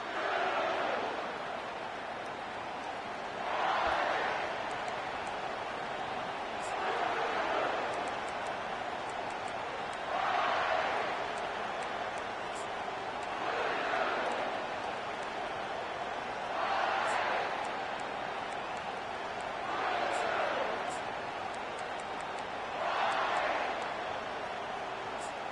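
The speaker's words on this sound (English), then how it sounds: "This crowd bringing an ear-splitting welcome to their visitors." A stadium crowd in the video game College Football 25 roars in repeated swelling waves every few seconds, a broad loud wash of cheering behind a commentator's voice.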